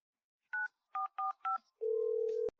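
A phone is dialed with several clear, separate keypad tones in an uneven rhythm, followed by a longer steady tone that cuts off with a click. The tones are close and isolated against silence.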